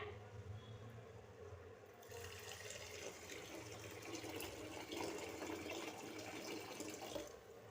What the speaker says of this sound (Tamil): நான் இப்போ இது கூட 3/4 லிட்டர் தண்ணி சேர்த்துக்கிறேன்